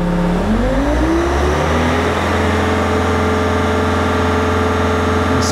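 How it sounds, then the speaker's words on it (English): Bobcat skid steer engine throttled up from a low idle into a loud, steady high-RPM drone, pitch climbing over the first two seconds and then holding close up with no talk. "Now increase your RPM. I'm gonna bring up the throttle."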